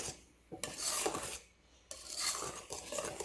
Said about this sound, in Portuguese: E mexendo com o nosso fouet.